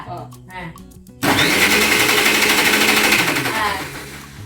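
After a moment of quiet talk, a kitchen blender whirs loudly into action, grinding juice with a steady high-pitched motor roar that persists to the end.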